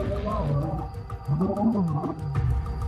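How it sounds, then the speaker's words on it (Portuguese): Lions fighting in the wild, with deep growls and a rising and falling roar close by over a continuous low rumble. "A gente viu uma nuvem de terra e ouviu rugidos e rosnados."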